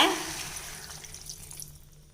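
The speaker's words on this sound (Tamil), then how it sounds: "இப்போ காய் வேக தேவையான தண்ணி விட்டுக்கலாங்க." Water poured into a pot of sambar with sautéed onion, tomato and vegetables, a short splashing rush that starts loud and trails off into quieter trickling.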